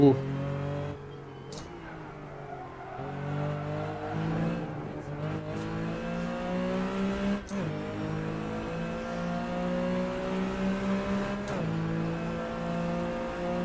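Racing car engine in the Assetto Corsa sim revving and shifting through gears, with rising and falling harmonic whine, a few sharp transients, loud and continuous throughout.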